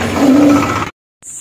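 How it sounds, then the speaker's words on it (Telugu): Monkeys call near a small Rama temple by the Bugulu Venkateswara Swamy temple on Chilpur hill: one close, loud, harsh, drawn-out cry, then a brief silence and a faint short sound. "చూసారు కదా ఇక్కడ ఎలాంటి సౌండ్ వస్తుందో. మొత్తం కోతులు ఉన్నాయి."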